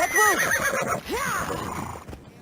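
A horse in the video game Assassin's Creed Odyssey whinnies twice in quick succession, loud and close, with faint hoof clatter beneath.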